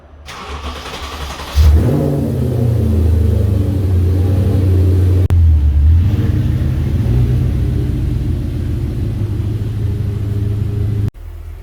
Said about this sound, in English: let me go ahead and pull the B7 RS4 out and pull the B8 S4 into the garage